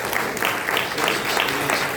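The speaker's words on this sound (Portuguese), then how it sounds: "dá uma linda salva de palmas mais uma vez." A church congregation at a family service claps together in a steady, dense wash of applause, fairly loud and close, with no voices over it.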